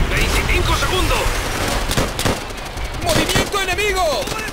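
Machine gun fire in the Call of Duty World at War video game, rapid loud bursts and scattered explosions in chaotic battle noise, with shouted voices over the gunfire.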